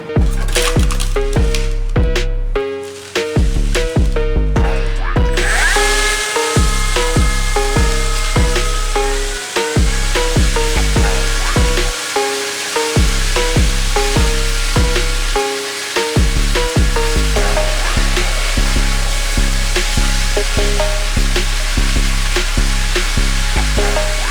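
A Milwaukee MX Fuel battery-powered power troweler runs with a steady electric motor whine and rhythmic scraping pulses of the pan on concrete, loud and close, with brief dips in speed.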